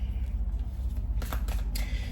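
Playing cards are shuffled close up, with quick papery riffles and bursts of snapping that come in two or three short runs.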